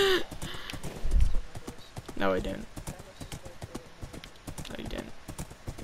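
Horse hooves clip-clopping in the Minecraft video game, a quick run of hoof clops with a brief whinny, heard under and between two people talking.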